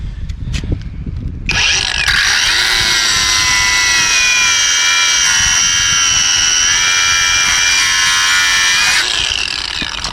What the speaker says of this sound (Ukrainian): покажу, як працює акумуляторна болгарка DeVolt з AliExpress модель DCG414